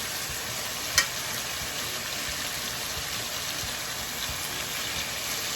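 Tandoori chicken frying in a pan, a steady bright sizzle of hot oil close up, with one brief sharp crackle early on and otherwise an even, continuous hiss.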